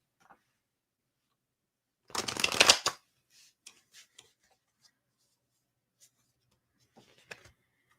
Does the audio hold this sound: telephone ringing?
no